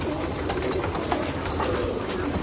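Roller pigeons coo in a loft with a soft, repeated murmur. The coos sit inside a dense, noisy background of rustling and other bird sounds.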